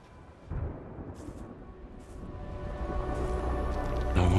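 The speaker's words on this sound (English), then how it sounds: "Distant cracks of thunder." Distant thunder in the ARC Raiders video game intro, a low muffled crack followed by a rumbling roll that steadily builds louder toward the end, with no talking over it.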